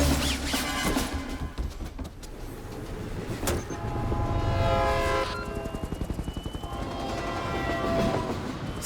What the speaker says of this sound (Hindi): ट्रेन टनल के अंदर एंटर हो चुकी है